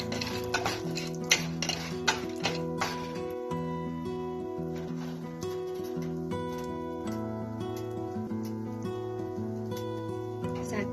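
Dry fruits are stirred in hot ghee for shahi coconut dahi chura, giving a faint sizzle and clinking spoon-on-pan scrapes, with a few sharper metallic knocks, all under steady background music.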